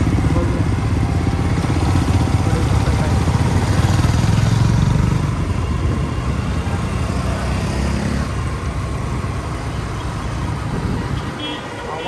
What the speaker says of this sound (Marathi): तर खूप ट्रॅफिक आहे